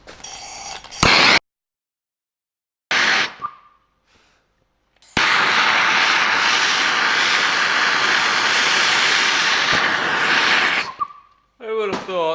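Two MAP gas torches burning together to heat aluminium for low-temperature rod welding: a loud, close, steady roaring rush lasting several seconds after short bursts and silent gaps, with a brief voice near the end.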